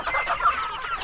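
Chickens cluck and squawk in a busy flock during feeding with corn and feed, a dense overlapping chatter that stays near and steady throughout.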